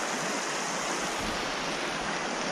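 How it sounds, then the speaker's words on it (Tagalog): A creek at Eldorado Canyon State Park rushes in a steady, broadband wash of flowing water, loud and continuous without talk. "Itong creek. Ang gandang pasok ng"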